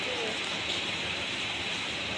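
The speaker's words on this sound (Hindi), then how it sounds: "आज बहुत बारिश हो रही है।" Steady, dense hiss of heavy rain pouring down, a constant wash of sound with no pauses and no voices.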